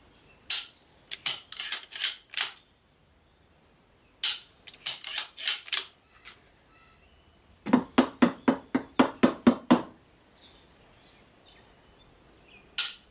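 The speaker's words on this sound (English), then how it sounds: "I operated the bolt quite heavily, and it is not jumping around" A bolt-action rifle being knocked about and its bolt worked hard, producing close, sharp metallic clacks and rattles in quick clusters separated by short pauses, with no talking.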